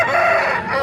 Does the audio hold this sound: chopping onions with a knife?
no